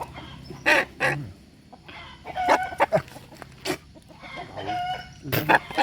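Chickens for a Ramadan munggahan feast cluck close by in irregular bursts, with a few louder squawks scattered through the clip.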